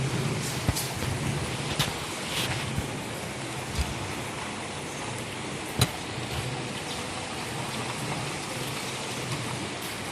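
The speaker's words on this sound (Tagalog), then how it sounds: "raining." Rain falls steadily outdoors, a dense even hiss with scattered louder drips and taps, continuous and fairly close for the whole stretch.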